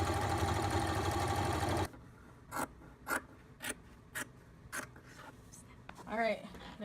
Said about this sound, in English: you're gonna stitch a straight stitch and then a zigzag stitch